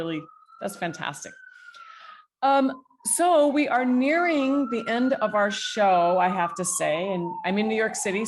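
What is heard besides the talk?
police sirens outside in New York City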